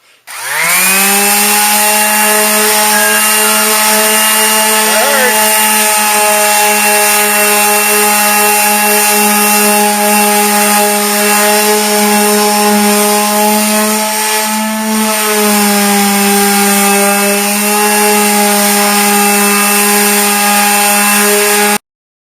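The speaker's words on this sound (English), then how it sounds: "we finished sanding, went to the orbital sander." A loud orbital sander sanding a fiberglass canoe whines steadily for a long stretch, its motor hum constant with only a brief dip partway through.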